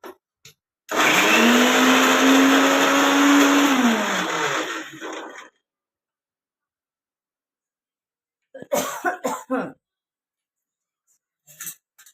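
A mixer grinder whirs loudly for several seconds, finely grinding garlic and ginger for a raw mango pickle, then falls silent before a few short pulsed bursts.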